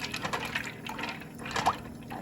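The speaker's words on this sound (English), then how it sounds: "I always pour oil. That's vegetable oil." Vegetable oil trickles from a tub into a pot of pasta water, a brief soft liquid pour with faint drips, close and quiet over low background hum.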